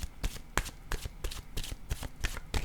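Oracle cards being shuffled by hand, a rapid series of crisp riffling flutters repeating in a steady rhythm, close and clear with no talking.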